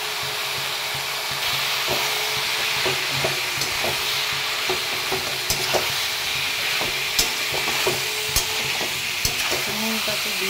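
Onion, turmeric and red chilli powder sizzling in a hot pan as they are stirred, a steady frying hiss with scattered scraping clicks of the spatula, close and continuous, with no talk.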